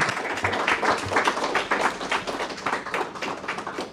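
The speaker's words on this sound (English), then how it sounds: "Let's give her one more hand of applause" An audience applauds after a lecture on the Cold War on film, with dense, fairly loud clapping that swells and gently fades over a few seconds, and no talking over it.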